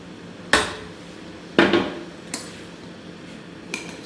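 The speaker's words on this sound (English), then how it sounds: "So make sure you mix everything together." Stirring blended shombo peppers and tomatoes in a cooking pot, a few sharp metallic clanks of a spoon against the pot spaced about a second apart, with quieter scraping between them and no talk.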